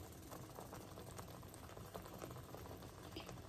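A vegetable dish boils steadily in a pot on a home stove, giving a soft continuous bubbling hiss with faint crackles, quiet and uninterrupted with no voices.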